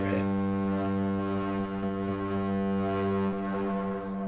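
Arturia EMS Synthi V with oscillator 2 hard synced to oscillator A produces a sustained, buzzy, harmonically rich tone that holds a steady pitch at a moderate level, dipping slightly partway through before continuing.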